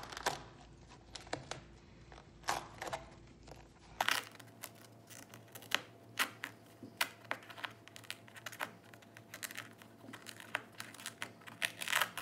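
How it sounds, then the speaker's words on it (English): Vinyl sticker film is peeled gently off a painted canvas, giving faint, quiet crinkling and ticking crackles scattered irregularly throughout, with no talking. "So you're just going to peel this nice and gently, just like a Band-Aid or a great big sticker."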